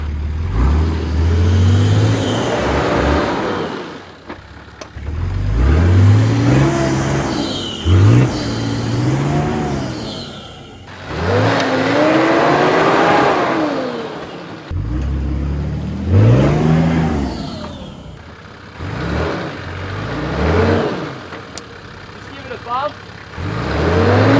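A 4WD vehicle's engine revs repeatedly, rising and falling as it works around a muddy bog hole on an off-road track, close and fairly loud, with people talking over it at times.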